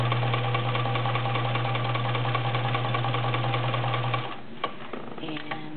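A vintage White Model 764 sewing machine runs close up with a smooth, steady motorized whir and rapid needle clatter while stitching zigzag, then stops, leaving a few light mechanical clicks.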